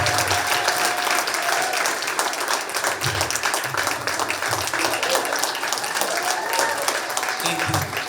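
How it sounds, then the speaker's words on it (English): A crowd at a Department of Neighborhoods open house claps steadily and loudly for a long-serving community member, a dense, continuous wash of applause throughout, with a few voices and whoops mixed in. "I'd love you to please give your second and louder clap for Grady Austin."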